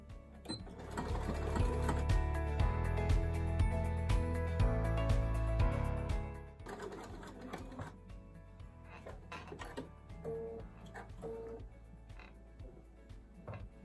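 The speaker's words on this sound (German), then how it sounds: "Am besten ihr näht jetzt genau auf der eben angemalten Linie." A sewing machine runs steadily along a marked seam line on fabric for several seconds, loud and close, then stops, followed by quieter clicks and handling noises.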